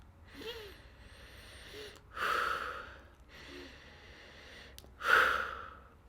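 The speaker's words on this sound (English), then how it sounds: "Start breathing deeper." Slow, deep breaths taken while sitting completely still, with three drawn-out inhales or exhales close up and faint voiced sounds between them in a quiet room.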